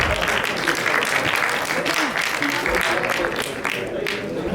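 An award show audience applauds for a literary honour, a full, close wash of clapping from many hands that holds steady throughout.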